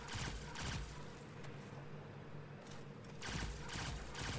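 Faint bursts of rapid automatic gunfire in a Destiny 2 dungeon boss fight, two clusters at the start and end with muffled rumbling between, no talk.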